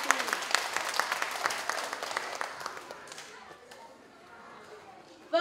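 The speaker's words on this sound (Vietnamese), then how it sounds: "chúng ta hãy cùng dành một tràng pháo tay thật lớn để cùng chúc mừng cho 10 thí sinh nhé." Audience applause at a summer piano festival award ceremony, a dense burst of many hands clapping close by that gradually thins and fades over several seconds, with a brief sharp noise at the very end.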